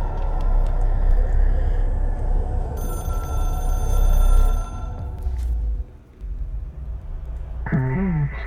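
A telephone bell rings inside a video game over a dense, rumbling ambient backdrop, with bright sustained ringing tones in the middle of the stretch and a short warbling electronic tone near the end.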